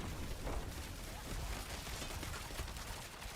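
Crackling bursts of firecrackers in the video game Diablo 4, a dense continuous popping spread across the whole stretch at moderate level, with brief game sounds mixed in.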